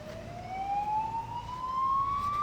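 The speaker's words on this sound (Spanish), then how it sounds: "una ambulancia, no sé si me oirá bien ahora" An ambulance siren passes on a street, a single rising electronic tone that grows louder over a low traffic rumble, heard alone without talk.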